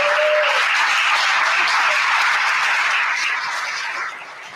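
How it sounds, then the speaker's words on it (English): Warm crowd applause at an Assange Defense celebration event at Busboys & Poets in Washington DC, full and steady clapping that tapers off toward the end. "Please give her a big applause."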